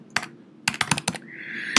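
Typing on a computer keyboard while entering items into a task-list application, a single key tap, then a quick burst of several keystrokes and a final tap, close and crisp.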